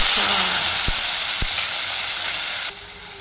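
Mustard seeds and cumin fry in hot oil for Maharashtrian varan, giving a dense sizzling hiss with a couple of sharp pops or clicks, then quieting slightly near the end.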